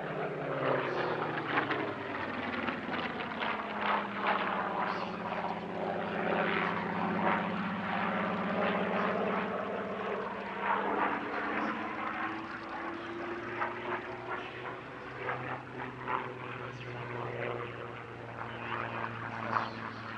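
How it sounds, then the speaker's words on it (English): A Supermarine Spitfire Mark 14 flying at an airshow, a steady droning propeller engine roar with a slowly shifting pitch as it passes, fairly loud and continuous for the whole stretch, no voices. "the Mark 14 gave the Spitfire a new lease of life"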